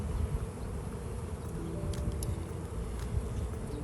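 Honeybees drone in a steady, dense buzz around an open hive during an inspection, with frames of capped honey pulled out; the hum stays close and continuous throughout.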